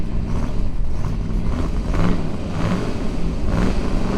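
A 1967 Ford Galaxie with a 7-liter 427 V8 revs hard and loud and close, its throaty roar rising and falling in repeated bursts with no one talking.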